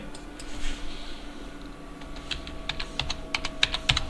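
Rapid clicks from typing on a computer keyboard while labelling a wardrobe drawing, close and clear, building into a quick burst of keystrokes toward the end over a faint steady hum.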